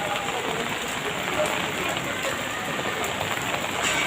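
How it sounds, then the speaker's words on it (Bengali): Heavy rain pours down at an outdoor Dussehra Ravan effigy burning, a loud, unbroken roar of drops drumming on surfaces throughout. "খুব জোর বৃষ্টি নেমে গেল।"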